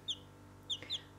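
Hens give three short, high, faint clucks, spaced apart, at a quiet backyard coop.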